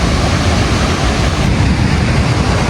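Pykara waterfall in Ooty gives a loud, continuous roar: dense, steady rushing water that fills the whole clip without a break, and no voices are heard.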